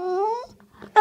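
A dog on a bed gives a single close, high drawn-out whimper that rises and fades, followed by a brief soft shuffle and a short louder sound at the end.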